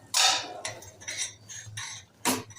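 A metal spoon scrapes and clinks in a pan as freshly cooked wet masala paste for a Malvani cashew and potato curry is stirred, with several separate strokes and one sharp knock near the end, no talk.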